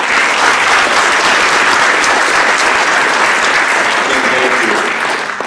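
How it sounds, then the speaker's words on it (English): An audience at a teachers and mentors awards program applauds with dense, sustained clapping that holds steady before tapering slightly at the end. "we all owe you a brief round of applause and gratitude"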